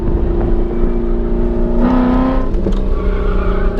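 The loud engine of a Nissan 350Z drones steadily, then revs higher as it accelerates briefly before settling back.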